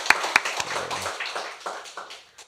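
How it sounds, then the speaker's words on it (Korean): Church congregation applause during a Thanksgiving Sunday service: a few sharp claps at first, followed by a softer scattered patter that fades over a couple of seconds. "하나님께 영광의 박수 올려드리겠습니다."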